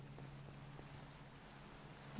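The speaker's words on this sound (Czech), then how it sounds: "Kamsky prší." Steady rain falls at an abandoned mine, a faint, even wash of drops with a low hum beneath and no voices.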